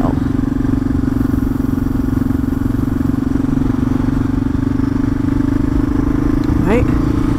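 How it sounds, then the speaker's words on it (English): A motorcycle engine pulling steadily up a hill under throttle, with a constant close drone and a brief shifting sweep near the end, under a rider's speech. "give it gas at the same time, roll it up a hill."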